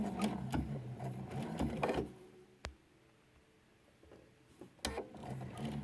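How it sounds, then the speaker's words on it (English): A sewing machine runs slowly, stitching binding onto a quilt toward a corner, with a close steady motor hum and needle clatter that stops partway through, leaving a quiet pause, a single click, then restarts near the end. "So now I'm going to continue stitching slowly to get to that corner."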